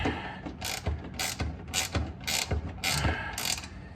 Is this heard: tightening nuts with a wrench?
yes